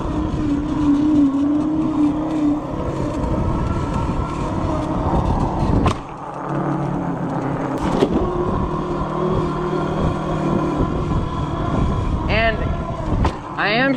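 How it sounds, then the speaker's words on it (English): Loud tires on a Happyrun G50 bike hum and whir steadily while it rolls along, close and continuous, with small surges and a brief dip in the middle. "I don't know if you guys can hear it on video, but these tires are so loud."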